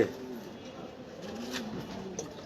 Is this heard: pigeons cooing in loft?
yes